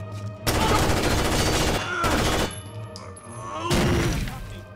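Rainbow Six Vegas 2 gunfire in a theatre terrorist hunt: three loud bursts of automatic fire with sharp echoing tails and short gaps between them.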